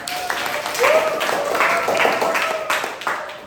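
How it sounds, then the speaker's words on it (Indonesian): A classroom of students applauding together, a short stretch of scattered clapping heard close, with a teacher's voice speaking over it. "Oke, tepuk tangan untuk kita semuanya."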